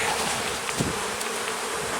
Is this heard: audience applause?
no